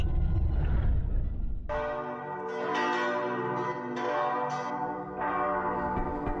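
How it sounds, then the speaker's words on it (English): Wedding bells ring out in the Simulacrum video game, a rich tolling chime entering after low rumbling noise and sustaining with repeated strikes and long resonant overtones for several seconds. "Cue the wedding music, or wedding bells,"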